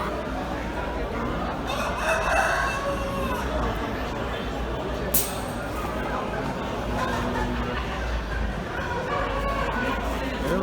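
Chickens cluck and a rooster crows amid busy outdoor background noise at a bird market, with people talking nearby.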